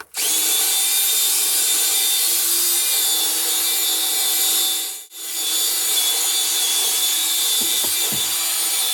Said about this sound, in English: I'm just going to brush this really good with the drill bit